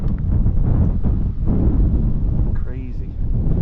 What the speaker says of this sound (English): It's very windy, guys, I'm sorry, it's very, very windy indeed.